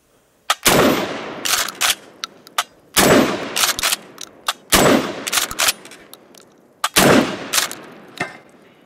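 Kel-Tec KSG 12 gauge pump shotgun fired at targets, four loud booming shots at roughly two-second intervals, each followed by ringing echo and clacking pump action.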